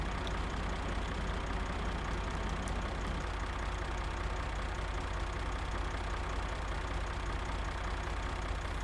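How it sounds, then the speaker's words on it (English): A red tractor's engine idles steadily in Farming Simulator 2013, a low even drone with faint knocking, continuous and moderately quiet, no voices over it. "you're driving a red tractor"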